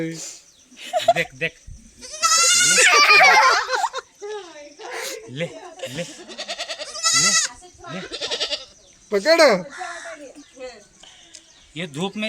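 Goats bleat repeatedly and loudly at close range, several long wavering cries interspersed with people talking and a child nearby, at a family home during a Ganesh festival visit.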